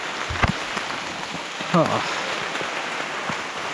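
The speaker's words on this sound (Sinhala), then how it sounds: "මට දැන් මේ අපි රේන් කෝට් දාගෙන යනවා. මෙහෙම වර්ෂාපතන යනවා." Steady rain falls on the Sangagalathenna trail to Sri Pada, an even, close hiss of drops throughout, with a brief voice in the middle.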